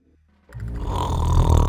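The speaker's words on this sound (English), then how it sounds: "where the giant was fast asleep, snoring loudly" A giant snores loudly in a Jack and the Beanstalk adventure game, a deep rumbling snore that rises out of near silence and swells into a heavy, close, growling drone.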